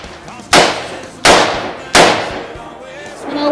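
A compact SIG pistol fires three sharp, loud shots outdoors, spaced roughly three-quarters of a second apart, each a hard crack trailing off into a short decaying echo.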